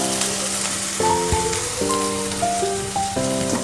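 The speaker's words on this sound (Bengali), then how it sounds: "মশলাটা মোটামুটি কষা হয়ে গেছে।" Spice paste (masala) sizzling steadily in a pan while cooking Palang Chicken, a continuous close frying hiss with faint tonal tones over it.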